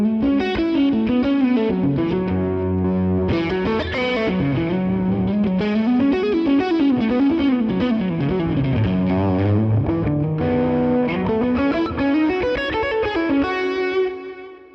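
Electric guitar played through a Fractal Axe FX amp model set to a cranked Matchless-style tone with no drive pedal, a loud continuous run of ringing chords and melodic lines with a full, somewhat woofy bass, no talking.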